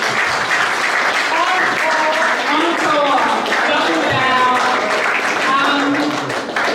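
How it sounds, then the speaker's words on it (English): A launch event crowd at SRS Studios gives sustained, dense applause, loud and continuous throughout, with some cheering voices woven through the clapping. "I would love you to give yourselves a round of applause."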